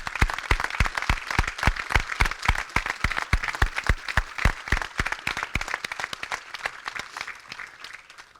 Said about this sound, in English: please give me the honor to applaud these great soldiers before you one last time